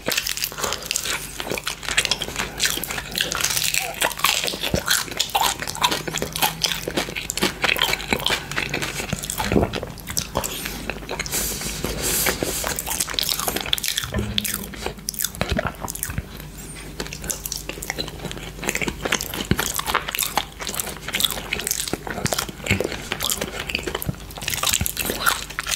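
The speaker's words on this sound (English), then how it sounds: "Chicken crunch." Close, loud crunching bites and chewing of crispy air-fryer oven-baked chicken quarters, continuous and dense, with wet mouth sounds and no talking.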